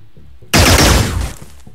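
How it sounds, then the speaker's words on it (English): A single loud gunshot in the video game Xenonauts, a sudden close blast that rings out and decays over most of a second, set against a quiet low musical background before and after. "Where did that shot come from?"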